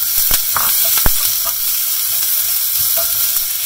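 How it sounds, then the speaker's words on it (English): Chopped red onion sizzling and spluttering in a very hot pan for a Konkani-style vegan red kidney bean curry, a steady bright hiss with sharp pops and crackles throughout. "The pan was pretty hot, so it started spluttering right away."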